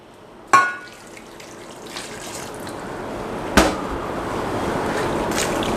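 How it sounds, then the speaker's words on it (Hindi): Water poured into a shami kabab mixture of meat, lentils and cloves, starting with a sharp splash and then a steady, close pouring rush that builds gradually, with a second splash partway through. "और इसमें मैं शामिल कर दूंगा तकरीबन 2 कप पानी।"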